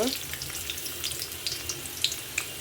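Onion drops into hot oil and fries with a fine crackling sizzle, light spitting pops scattered over a steady hiss, close and moderately loud.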